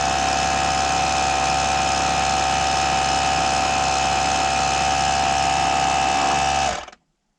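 A tyre inflator compressor from a puncture sealant and inflator kit runs steadily at close range, its motor hum and rapid buzzing held constant for about seven seconds before it is switched off and falls silent.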